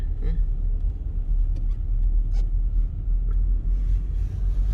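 A steady low engine rumble from a snow blower truck clearing snow on a mountain road in Norway, with a constant drone and a few faint clicks over it.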